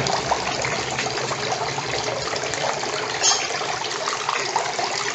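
A small owl-shaped decorative fountain with a pump trickles steadily nearby, a continuous gentle splashing and dribbling of water that holds an even level throughout, heard alone without speech.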